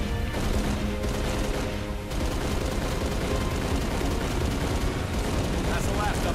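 Dense gunfire rattles steadily through a Halo Reach battle: continuous loud shots and bursts overlap without pause under busy game noise.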